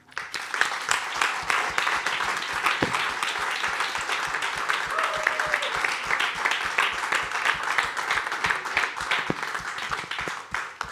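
An audience at a Swiss TV comedy talent show applauds a selected comedian with sustained, dense clapping that holds steady for several seconds, loud and close, with a host's voice briefly heard over it.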